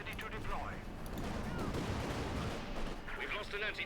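Company of Heroes 2 battle gunfire and artillery crack and rumble in dense, overlapping bursts, with a game commentator's voice faintly audible at the edges.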